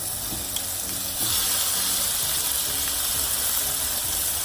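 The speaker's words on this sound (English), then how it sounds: "you're gonna stir fry the shrimp" Shrimp stir-frying in a pan for Vietnamese crispy noodles, a steady broad sizzle and hiss that swells slightly after the first second and keeps going without a break, with no voices over it.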